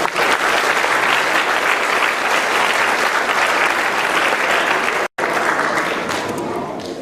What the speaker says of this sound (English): Let's give the boys a big round of applause.